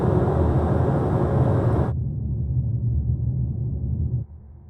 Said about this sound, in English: Let's play some airplane cabin noise through this head-shaped mic so you can hear the difference.